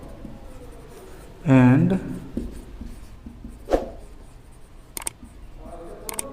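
Chalk or marker writing on a classroom board during an electrical lesson on a universal single-phase motor, with a few scratchy strokes under a man's spoken explanation.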